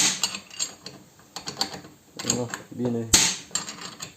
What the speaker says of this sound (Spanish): una llave acodada, que en la curva justo me llega a la tuerca, y con eso lo vamos a apretar